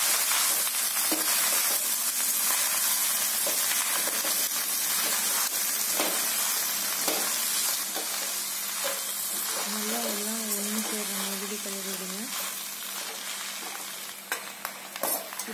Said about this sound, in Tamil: இது எல்லாத்தையும் ஒரு கிளறி கிளறி விடுவேன்